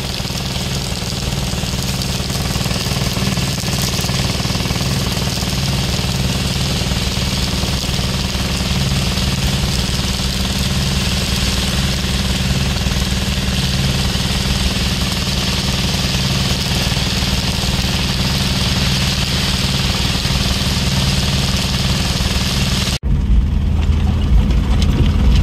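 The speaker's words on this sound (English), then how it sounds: "we're just driving through the smoke now, downwind" A fire unit vehicle drives through smoke downwind of a bushfire, its engine a loud, steady, close drone that runs unbroken for over twenty seconds before an abrupt shift to a lower rumble near the end.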